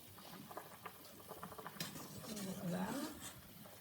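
Cooked knepfle dumplings being drained and shaken in a colander: clattering taps, scraping and wet spattering against metal and kitchenware, close up, with brief voice sounds near the end.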